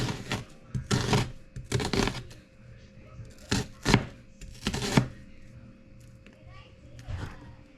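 Onions chopped with a knife on a cutting board, cooked for chicken stewed in coconut milk: irregular, loud chopping strikes in clusters, with faint voices and children in the background.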